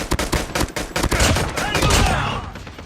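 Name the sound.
pistol gunfire in a video game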